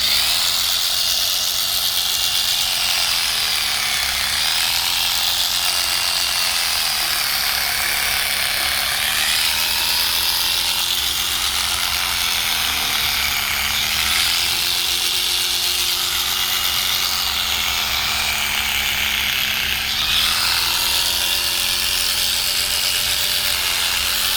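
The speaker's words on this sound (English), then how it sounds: "as we get past that, the clipper should run a little easier" Electric sheep-shearing clippers run continuously with a steady, close, buzzing mechanical whir as they cut through a ewe's dirty wool. The tone shifts slightly as the blades work through the fleece, with no talk.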